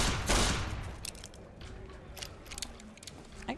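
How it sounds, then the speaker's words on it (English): Rapid gunfire from a fast-firing gun in a video game, a burst of loud shots up front followed by scattered quieter pops and clicks over a low game background. "I can shoot this gun really fast."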